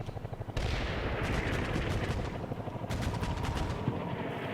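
Sustained bursts of heavy gunfire from a Hind attack helicopter strafing a vehicle in a video game, loud and continuous rapid fire with rumbling blasts, no talk.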